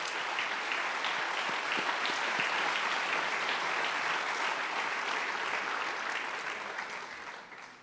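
Steady round of applause from an audience at a high school senior awards ceremony honoring students, dense clapping sustained throughout and tapering slightly at the end.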